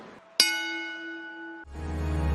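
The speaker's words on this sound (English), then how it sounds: "10-bell salute." A single bell stroke from a ten-bell salute at a professional wrestling tribute rings out clear and bright, sustaining for just over a second before it is cut off by other sound.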